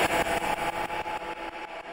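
A stuttered vocal fill made with the Stutter Edit plugin, a dense chopped sound repeating in rapid, even slices about eight times a second and fading slightly toward the end, with no one speaking.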